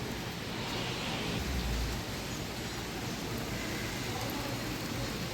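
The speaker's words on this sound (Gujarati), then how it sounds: "તો હું તમને બતાવું કેવો વરસાદ પડે છે." Heavy monsoon rain pouring down under dark skies, a dense, steady hiss of falling water filling the scene at an even loudness, with a brief low rumble partway through.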